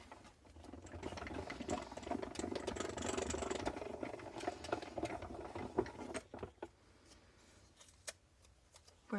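A die-cutting machine makes a second cut through paper for a handmade card, giving a steady mechanical whirring and crunching for several seconds that then stops, leaving a few scattered clicks and handling sounds.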